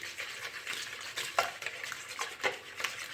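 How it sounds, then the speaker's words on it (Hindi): Six eggs being whisked in a bowl for a cream cake batter, a steady run of quick scraping, tapping strokes with soft clinks against the bowl, close and alone. "यहाँ पे मैंने ले लिए हैं 6 अंडे तोड़ के, तो ये ऐड कर लिए हैं बॉल में। तो इनको करते हैं मिक्स।"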